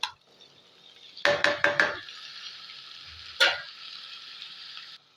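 Cut tomatoes are tipped into a pan of cooking brinjal, setting off a loud burst of close clatter and scraping, then a steady hot sizzle that cuts off abruptly after a second stir.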